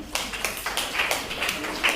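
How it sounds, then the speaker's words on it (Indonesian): A school class claps for a presenting group, a close, steady patter of hand claps from several students lasting the full moment. "Beri tepuk tangan."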